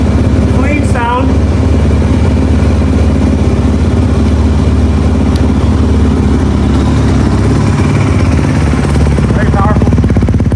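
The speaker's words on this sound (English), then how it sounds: "I'm gonna start my Honda." A Honda motorcycle engine runs steadily and close by, a constant loud mechanical drone under some brief voices.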